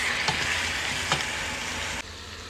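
Minced meat filling for meat samosas sizzles steadily in a pan while being stirred, with a couple of soft scraping bumps of the utensil over the continuous frying hiss.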